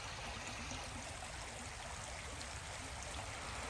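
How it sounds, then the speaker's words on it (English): A small outdoor stream running over rocks, a constant full-band rushing and gurgling wash, steady and fairly close, with no voices. "I heard water running. There's a little stream back."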